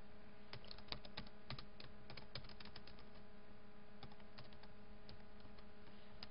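Someone types C++ code on a computer keyboard, with quick irregular clicks and clacks in bursts and short pauses, close and quiet, with no talking.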